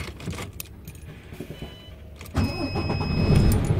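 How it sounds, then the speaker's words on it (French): Keys jangle at close range, then a semi-truck with a 24-volt system and a freshly replaced battery catches on its starter and settles into a loud, steady diesel idle. "Donc là je vais remettre le courant, puis on va regarder si ça démarre."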